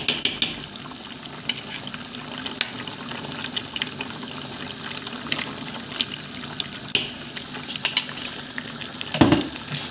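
Hungarian goulash simmers in a pot with a constant bubbling hiss, broken by scattered close clicks and clinks of a utensil against the pot.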